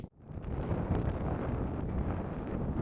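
Strong, steady wind buffets the microphone on the exposed Helvellyn ridge in the Lake District, a loud continuous roar that holds without a break throughout.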